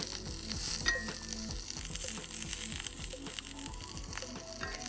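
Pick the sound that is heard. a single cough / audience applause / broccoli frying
broccoli frying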